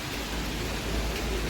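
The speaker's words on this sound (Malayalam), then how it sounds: "ചെറിയ മഴയുള്ളു ഗൈസ്," Light rain falls at a home in Kerala, a soft, even hiss that stays steady and faint for a brief moment.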